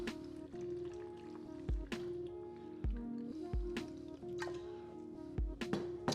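Water is poured into a blender holding cucumber for a summer drink, giving soft, wet splashes and squishy drips at irregular intervals. The sounds are fairly quiet and close, with no talking.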